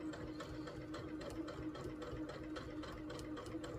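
A sewing machine stitches a quilted pumpkin table runner, its fast, steady mechanical whir running continuously and fairly close with a fine rhythmic rattle throughout.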